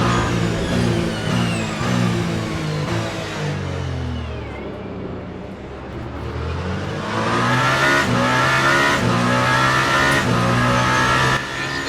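Number 7 Toyota and number 36 Alpine Le Mans prototypes racing at Bahrain International Circuit in Le Mans Ultimate, engines droning loud and continuous with rising and falling revs as gears shift, a brief dip in intensity midway before revving back up.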